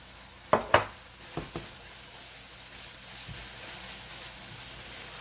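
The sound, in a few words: sautéing in a pan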